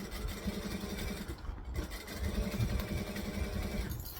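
A sewing machine stitches and back-stitches a bag with a continuous rapid mechanical whir, briefly pausing midway before running again, fairly close and moderately quiet.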